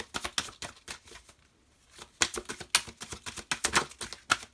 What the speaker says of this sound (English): This is a new deck, so it's not very easy to shuffle.